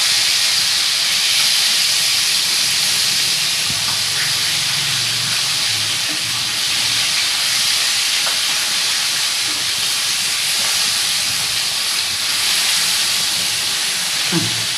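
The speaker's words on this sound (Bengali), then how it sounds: "মাছটা আমি একটু ভালো করে ভাজবো।" Fish pieces frying in hot oil, a steady bright hiss of sizzling running continuously at close range, with no talk over it.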